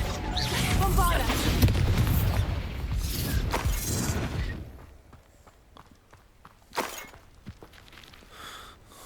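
A Bombarda spell explosion in the Hogwarts Legacy video game bursts loudly with a dense rumbling blast that fades after a few seconds, leaving sparse clatter and a sharp hit behind.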